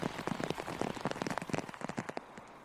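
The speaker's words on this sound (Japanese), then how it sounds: "雨が次第に強くなってきました。" Heavy rain pouring down along a river in Ogaki, Gifu, a dense patter of drops striking surfaces, close and continuous with no voices.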